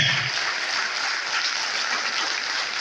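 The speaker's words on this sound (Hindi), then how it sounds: "इनके सम्मान में जोरदार तालियां बजाएंगे, खड़े होकर बजाएंगे" Steady, dense applause from a large assembly of monastics and lay audience at a Buddhist Sangha gathering in Satna, Madhya Pradesh, honouring monks, with the clapping continuing evenly throughout.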